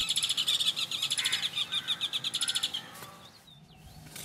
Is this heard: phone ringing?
no